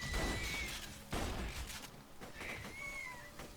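Loud, booming shotgun blasts from the video game Borderlands 2, two or three heavy shots with echoing tails and crackling debris.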